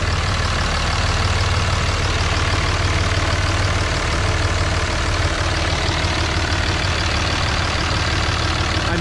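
A 2005 Dodge Ram 3500 dually with a 5.9L Cummins diesel and an aftermarket airbox idles steadily with a loud, dense rumble and clatter, unchanging and up close.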